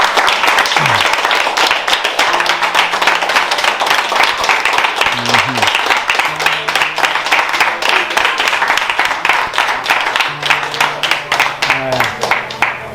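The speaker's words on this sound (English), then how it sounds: "I'll give him a round of applause" Sustained audience applause for a food donation at a community kitchen, dense rapid clapping continuing for many seconds, with voices and chatter mixed in beneath it.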